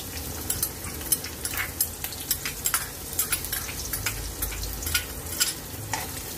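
Onions fry in hot oil with mustard seeds and cumin while rava upma is cooked. A steady crackling sizzle is punctuated by regular scraping taps of a spoon stirring the pan, and no voices are heard.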